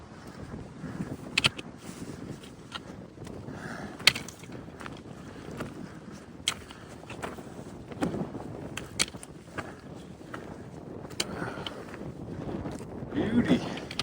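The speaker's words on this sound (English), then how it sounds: "There's the wind." Gusty winter wind on Marble Mountain, west of Sundre, Alberta, buffets the microphone outdoors with an uneven low rumble, punctuated by occasional knocks.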